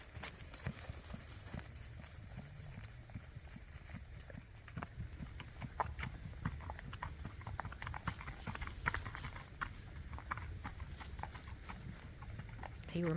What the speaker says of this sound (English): here's Mr. Goblin going through the second creek